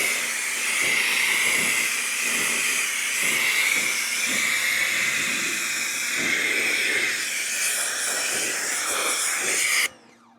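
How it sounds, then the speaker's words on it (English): A Ryobi high-flow pressure washer with a 40-degree nozzle sprays a steady, loud hissing rinse for about ten seconds, with a faint low motor hum beneath and no talking, then cuts off abruptly near the end. "Let's see how well we can rinse it off with a 40-degree nozzle."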